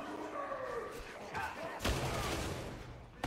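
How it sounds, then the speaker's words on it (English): A grenade goes off in the Warhammer 40K video game as a sudden broadband blast partway through, amid continuous battle noise and voice-like sounds. "Oh, I threw a grenade."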